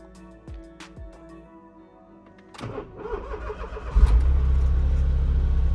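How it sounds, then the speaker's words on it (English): A few chimes ring out, then a Smart car engine cranks and catches, settling into a steady, low idle rumble nearby. "So you should turn on the car."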